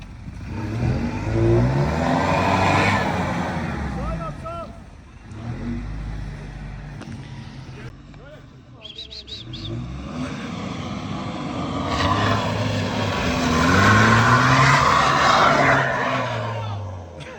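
Mitsubishi L200 pickup struggling off-road on a highland plateau, its engine revving repeatedly in rising and falling surges while people shout nearby.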